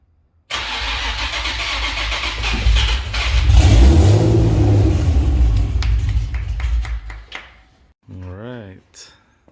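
A swapped VQ35HR V6 in an Infiniti G35 coupe cranks and catches, rising into a loud close revving roar that settles to a rougher idle before cutting out, followed by a short burst of nearby talking.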